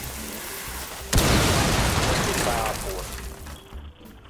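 A charge detonating in the tactical shooter Rainbow Six Siege, a sudden loud blast that rumbles and crackles for about two seconds before fading into debris and room noise.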